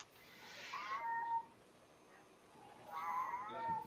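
A cat meows twice, close and fairly loud, each call drawn out, with a short pause between them.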